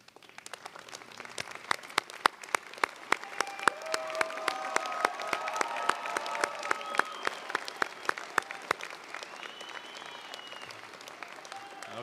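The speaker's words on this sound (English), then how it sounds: "offer a round of applause for the people supporting you here this morning" Standing commencement audience at a UC Merced engineering and natural sciences ceremony applauds the people supporting the graduates, sharp individual claps building into sustained applause that swells, then thins out toward the end.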